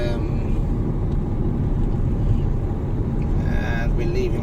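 A car on a road trip from Beni Jofar toward Algorfa on a warm day gives a steady loud rumble of road and engine with wind buffeting, under faint background voices.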